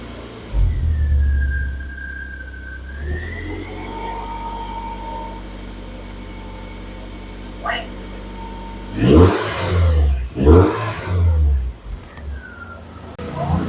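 BMW E46 318i with the M43 engine idling after an engine flush, a steady low hum running through with brief louder bursts and knocks partway through, nearby.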